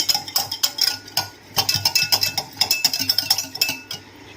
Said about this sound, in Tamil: ரெண்டையும் நல்லா மிக்ஸ் பண்ணிக்கணும்